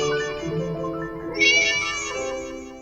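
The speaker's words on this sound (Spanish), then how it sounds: "y un gato" A cat meows in one sustained, harmonic cry that rises in pitch midway, close and clear, inserted as a sound effect in a Spanish audiobook narration of Poe's The Black Cat, with no voice over it.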